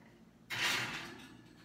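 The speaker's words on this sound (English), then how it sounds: "Opening the oven door." An oven door swings open in a home kitchen with one soft, broad whooshing clunk that fades over about a second, nearby and alone.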